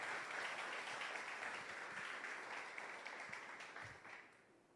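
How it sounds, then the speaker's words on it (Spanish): A church congregation applauds in praise during a Spanish-language service, a steady dense wash of clapping that holds strong before thinning and fading toward the end. "Le damos un fuerte aplauso al Señor,"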